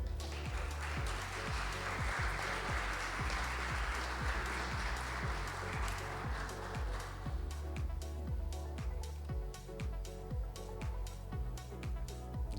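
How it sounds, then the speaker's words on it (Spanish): Audience applause welcoming a speaker at an energy and hydrocarbons dialogue forum in Tarija, Bolivia; steady clapping from a crowd with some rhythmic low taps, sustained throughout and gradually thinning toward the end. "Lo vamos a recibir con un fuerte aplauso"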